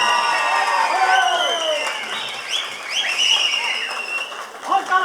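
Applause and cheering from a crowd at a Nepali political rally, steady across the whole stretch, with whoops and shouts rising over the clapping.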